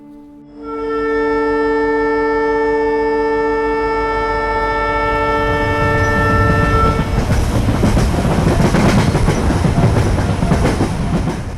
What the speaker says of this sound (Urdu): وہ ٹرین گزر رہی ہے اور وہ پٹڑی گزر رہی ہے، آپ دیکھ سکتے ہیں کہ جا رہی ہے، اور وہاں سے وہ آواز آ رہی ہے کھٹ کھٹ کھٹ کی۔